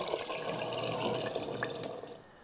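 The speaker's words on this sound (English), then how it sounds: "I'm gonna put a little bit in here just so I don't pour the additives into an empty tank." Diesel fuel additive poured into a Humvee fuel tank, a continuous liquid gurgle and splash close by, steady for about two seconds before tapering off, with no talk.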